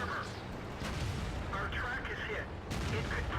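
Tank cannon fire from a T29 in World of Tanks on the El Halluf desert map, heavy booming shots over a steady engine and battle rumble, close and loud, with a couple of sharp bursts.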